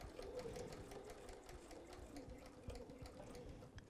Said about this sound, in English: Now I'm going to sew back across the bottom of this